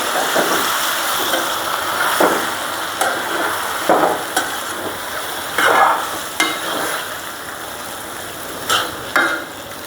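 Bottle gourd pieces fry in hot spiced oil and are stirred, making a loud, close, steady sizzle and hiss broken by repeated scraping strokes and bursts of spatter, with no talking.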